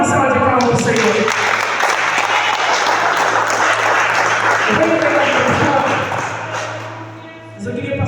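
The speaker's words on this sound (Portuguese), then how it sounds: "Dá uma salva de palmas para o Senhor" A church congregation claps together in praise, a loud, sustained burst of applause with a voice carrying over it, tapering off near the end.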